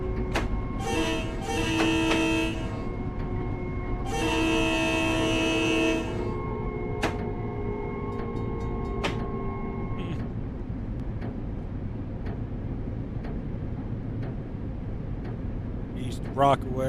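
A train runs along in Train Sim World 6 with a steady low rumble, two long horn blasts near the start, and a few sharp clicks, while a voice talks over it.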